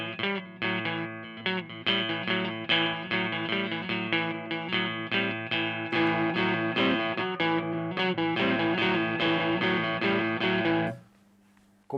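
Electric guitar played through a Tube Screamer overdrive pedal with the tone knob at zero, giving a dark, closed-off overdriven tone; a steady run of rhythmic picked chords rings loudly, then cuts off abruptly near the end.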